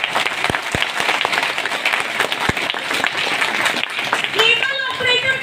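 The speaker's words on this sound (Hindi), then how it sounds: "आज हमारे माननीय जोरदार तालियां चाहूंगी हमारे डायमंड के लिए" Sustained audience applause fills a hall honouring a guest at a motivational speaking event, steady and dense throughout, with a few sharp claps standing out near the start and voices rising toward the end.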